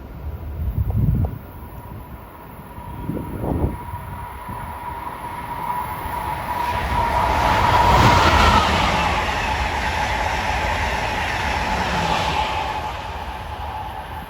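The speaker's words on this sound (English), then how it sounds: "Next up at 3:23 is train 2166, the Acela from Washington to Boston." An Amtrak Acela, train 2166, passes on the Northeast Corridor at Linden, New Jersey, building from distant clatter to a loud, close rushing roar with wind buffeting, then holding steady as it speeds by.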